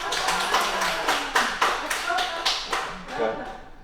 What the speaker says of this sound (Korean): 그러면 박수를 치면서 한번 깔깔대고 웃어봅시다